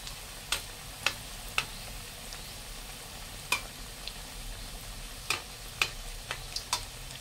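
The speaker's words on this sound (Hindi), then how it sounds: "अब इसमें ऐड करेंगे ये रोल्स। इसको थोड़ा मीडियम फ्लेम पे फ्राई करेंगे फ्रेंड्स" Wheat flour rolls fry in oil over a medium flame, with a soft continuous sizzle broken by scattered sharp pops and ticks.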